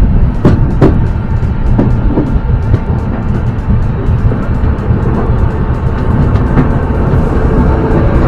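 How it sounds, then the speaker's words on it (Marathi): The Tirunelveli–Dadar Express passes through Chiplun station, a loud, close rumble with rhythmic wheel clicks over the rail joints that continues steadily. "आपल्याला तिरुनावेली दादर एक्सप्रेस दिसते"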